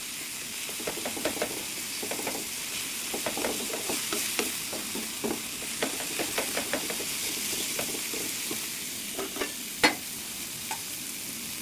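A ladle stirs and mashes tomatoes frying in a pan, giving steady sizzling under repeated scraping and tapping strokes, close and moderately loud, with one sharper clank near the end.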